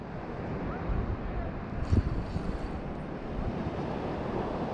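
Strong sea waves pound a Turkish shore near a pier, a continuous roaring surf wash mixed with wind buffeting the microphone, with one brief thump near the middle.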